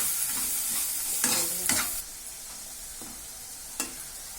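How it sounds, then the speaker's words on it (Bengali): Ground coriander and cumin sautéing in a pan for a prawn malai curry, a continuous close sizzle with a few scraping stirs of the spoon and no voices. "দিয়ে দিচ্ছি ধনে গুঁড়ো আর গুঁড়ো জিয়ার গুঁড়ো সব মশলাগুলো ভালো করে কষে নিচ্ছি"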